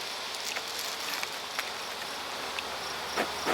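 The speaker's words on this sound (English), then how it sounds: "Decent number of bees." Honey bees in a split hive produce a steady, broad hum with a faint rustling texture, continuous and moderately quiet throughout.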